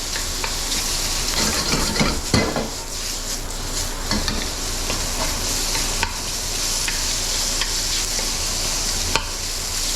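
Bacon renders in a hot pan on high heat, a dense steady sizzle with occasional scraping and stirring knocks, close and loud, no speech.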